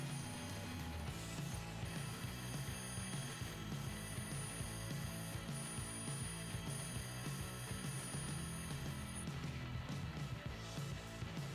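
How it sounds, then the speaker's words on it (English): EVA foam pieces being cut at 45 degrees on a bandsaw, a steady mechanical whirring drone with a dense rattling texture, continuous and even throughout, with no talking. "I'm going to go ahead and use my bandsaw"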